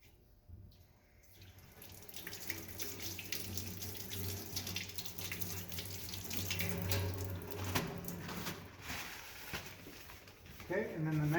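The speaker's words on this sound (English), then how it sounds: "I'm going to wash my hands with soap and water to get any stains" A tap runs steadily into a sink while hands are washed with soap to clear ink from the fingertips, a close continuous splashing rush that swells slightly toward the end.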